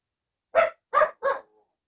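Puppies bark three times in quick succession, sharp close yaps of even loudness with short pauses between them.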